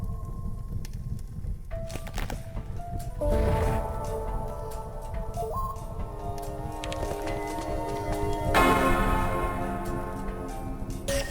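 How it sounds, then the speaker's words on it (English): The great bell in the video game Anuchard is struck twice, each strike ringing out with a bright metallic clang and long shimmering decay over ongoing game sounds. "I do like hitting that bell."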